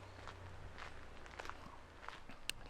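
Footsteps crunching along outdoors at a steady walking pace, fairly close, with a low wind rumble and faint distant birds behind them.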